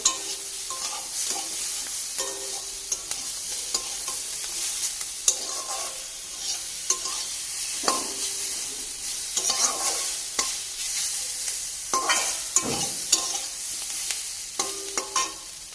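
Close, steady frying sizzle with repeated scraping and clacking strokes of a spatula, as a turmeric masala is stirred in oil for a Bengali-style puti fish curry with potato and brinjal.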